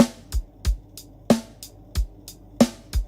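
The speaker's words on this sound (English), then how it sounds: "Now the snare without this sounds like this." Unprocessed snare drum in a Cubase 11 reggae beat, sharp cracks landing over a steady low kick with lighter ticks between, a heavy, dry loop with no voices.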